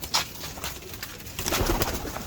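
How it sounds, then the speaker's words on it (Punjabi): A large Habshi pigeon, the sire of a breeder's old high-flying line, gives a few soft, close coos in a brief burst. "ਦੇਖੋ ਇਹ ਮੇਰਾ ਵੱਡਾ ਹਬਸ਼ੀ ਕਬੂਤਰ ਦਾ ਪਿਓ ਜੀ"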